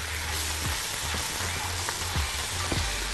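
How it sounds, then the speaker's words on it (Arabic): Orzo with zucchini and lemon zest being stirred in a pan, a steady soft sizzle with faint scraping strokes of the spoon, close and quiet with no talking. "وهدي تقليبه دلوقتي لكل حاجه"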